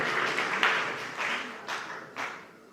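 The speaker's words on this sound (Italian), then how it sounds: "un grande applauso di nuovo alle nostre cheerleaders" An audience claps for cheerleaders at a rugby gathering, a steady wash of applause from a crowd that swells and gradually fades over a few seconds, with a few louder individual claps standing out.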